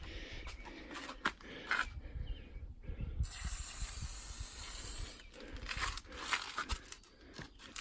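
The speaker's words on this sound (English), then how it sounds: "Make sure you do one full layer of the chain spray" A steady aerosol hiss of chain lube sprays for a couple of seconds amid clicking and rattling handling noises of a dirt bike chain being worked nearby.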